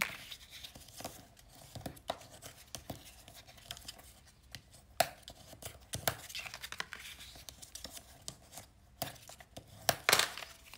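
Scissors snip through the folded corners of a paper explosion box in a string of close, crisp cuts and rustles, with no voices.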